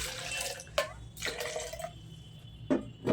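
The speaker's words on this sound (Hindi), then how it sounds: "इस बोतल में मैंने अगर पानी भरा," Water splashes and trickles into a bottle in uneven gurgling bursts, close and moderately loud, with a few sharper drip-like hits toward the end.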